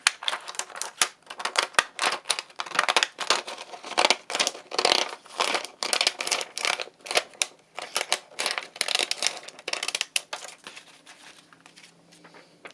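Scissors snipping through paper in a forest-themed accordion journal, a long irregular run of crisp close clicks and rustles, paper crinkling between cuts and fading toward the end.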